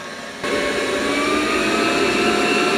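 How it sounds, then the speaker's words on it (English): Robot vacuum on carpet, from a Dreame L20 Ultra versus eufy X10 Pro Omni test, jumps abruptly into a louder, higher-pitched suction roar after a quieter moment, then holds a steady close whine and rush. "It ramps the suction up when it's on the carpet."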